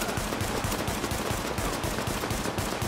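Gunfire in the video game Tom Clancy's The Division, a dense, continuous run of rapid shots in a loud, sustained barrage with no pauses.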